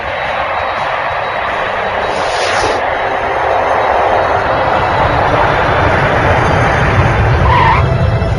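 Air India aircraft landing on runway 07, a steady broad roar of engine and rushing air with tyre noise, loud and continuous throughout, growing slightly louder toward the end.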